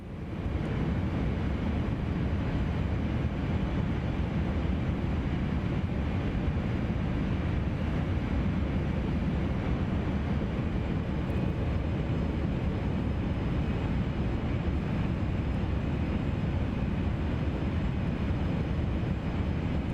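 Phenom 300 business jet engines at slightly reduced throttle in Microsoft Flight Simulator 2024, a steady dense rumble and hiss holding evenly throughout, loud and continuous with no voices.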